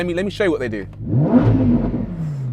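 Someone speaks briefly, then a Lamborghini Huracan Performante V10 revs up hard and close by, its roar rising and fading with a clattering exhaust.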